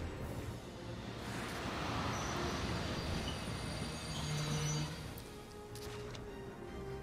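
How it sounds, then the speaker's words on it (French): Armored train rolling along in the video game Valkyria Chronicles 4: a steady, rumbling rail clatter with a brief wheel squeal midway, fairly close and heard alone. "It's an armored train."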